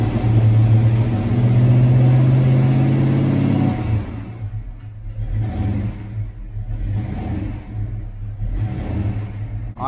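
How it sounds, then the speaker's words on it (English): A Ford Foxbody Mustang with Megasquirt engine management cranks and fires on a base tune, starting with a loud droning rumble, then settling into a lumpy, pulsing idle close by. "So let's go ahead and get the car started up."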